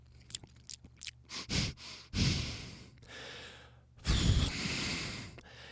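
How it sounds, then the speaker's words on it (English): Close, breathy inhales and exhales right against the microphone, with soft mouth clicks between them, loud and intimate with no talking. "be real close to the mic, but just watch your breathing"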